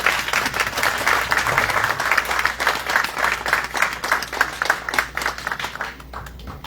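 Sustained applause from an audience at a nurse's aide diploma ceremony as a graduate is called up, steady dense clapping that thins slightly toward the end.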